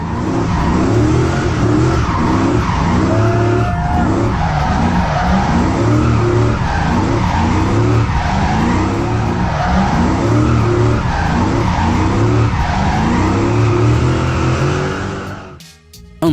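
A modified Nissan GT-R R34 skids with tires squealing and a loud engine roaring close by, the sound running steadily for about fifteen seconds before cutting off abruptly.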